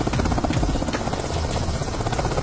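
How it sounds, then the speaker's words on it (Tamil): A helicopter flies overhead with a continuous, loud rotor thrum and buzzing engine drone that holds steady throughout, without speech. "ஹெலிகாப்டர்ல பறந்து போனார்."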